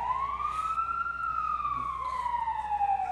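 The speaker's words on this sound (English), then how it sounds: "Santa Claus coming to town on Grant Township Fire Engine 82" Siren of Grant Township Fire Engine 82, carrying Santa and Mrs. Claus through town, wails loud and close as one long rising and falling tone with harmonics.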